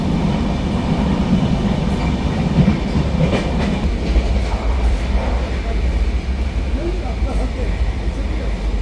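The 12952 Mumbai Rajdhani express rolls along the rails, heard from inside a first AC coach as a loud, steady low rumble with faint clickety-clack from the wheels.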